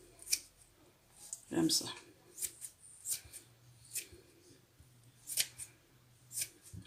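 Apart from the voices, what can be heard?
scissors cutting pork fat for lard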